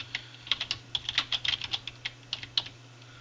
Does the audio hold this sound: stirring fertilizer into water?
no